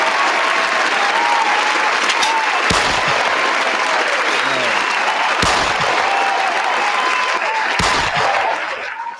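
Loud, dense hand claps and applause from a crowd as a podcast sound effect, continuous and close, broken by a few short thumps and fading at the very end.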